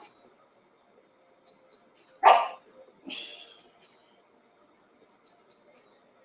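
Household dogs barking during a phone call: one loud bark and a few softer yips and whimpers, heard intermittently in a quiet room with a voice in the background.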